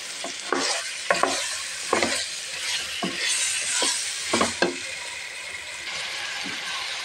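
Chicken stir-fried in a hot pan for chicken pulao, a continuous sizzle broken by repeated scraping strokes of a spatula, close and fairly loud with no talking.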